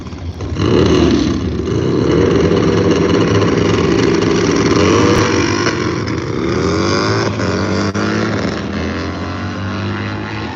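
One motorcycle engine runs steadily at a drag racing raceway, a loud, close, sustained drone whose pitch shifts and rises partway through, with no burnout beforehand.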